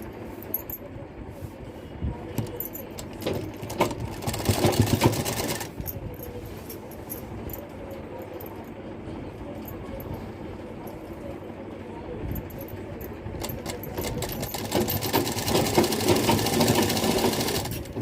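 Sewing machine stitching a half saree made from Narayana silk, running steadily for long stretches with a brief louder burst, close and alone without talk.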